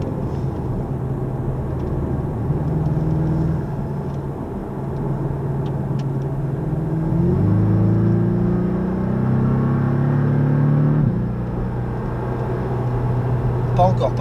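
Porsche 718 Cayman driving on the Le Mans circuit, its engine droning steadily and rising in pitch through gears, heard from inside the car with people talking over it.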